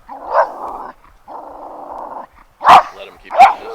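An approaching dog growls in two long, low rumbles, then lets out two sharp, loud barks close by, with short pauses between.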